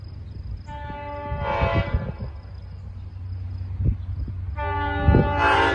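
An LIRR DM30AC diesel locomotive, #521, blasts through Center Moriches with its horn sounding two long chord blasts over a low rumbling engine and rolling wheels, close and loud, with no talking.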